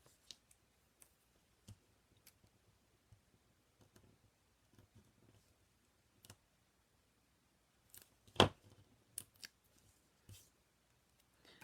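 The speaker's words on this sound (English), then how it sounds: "I'm just going to cut a piece off here." Scissors cutting a piece of tape or paper for a card, a sparse series of faint dry clicks and snips close by in a quiet room, with one sharper snip near the end.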